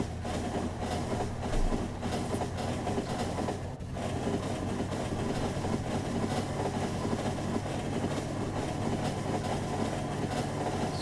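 A train in the video game Factorio rolls along with a steady, continuous rumble and rattle that holds at an even level throughout.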